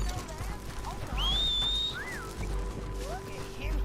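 Horses in the video game Red Dead Redemption 2 clop softly amid game ambience, with a whistle call rising over the hoofbeats and a brief voice.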